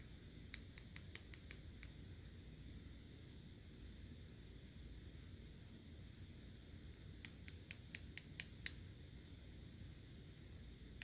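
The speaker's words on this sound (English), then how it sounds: "like that high pitch kind of clicking noise? That lets you know that the acrylic is dry." Sharp, high-pitched clicks from tapping a dry acrylic nail, in two quick bursts of several taps each, separated by a quiet pause, close and crisp.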